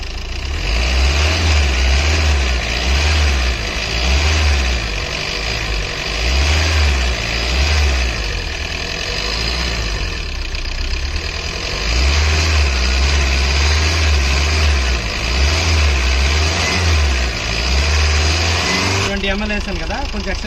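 A Tata Ace small commercial vehicle's engine runs with a steady mid-pitched drone and rhythmic low pulsing, swelling and easing as it is revved, while someone speaks over it near the close.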